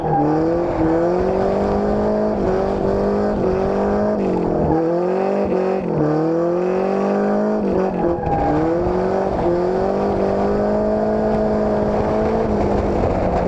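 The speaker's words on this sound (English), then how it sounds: "So I'm doing donuts for the second time now" A drift car spins donuts, its engine held at high revs in a loud, continuous wail that rises and dips as the throttle is worked, with short drops in pitch between pulls.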